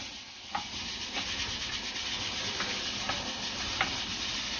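Shredded celtuce being tossed with an oil-vinegar dressing and a little soy sauce, giving a steady soft rubbing, squelching rustle with a few faint clicks, close and continuous with no talking.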